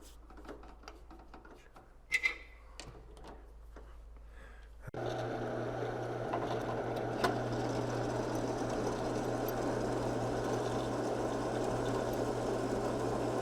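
Restored old cutting tool cutting a chamfer on a machine, with quiet ticks at first, then a steady loud machining drone starting partway through and running on.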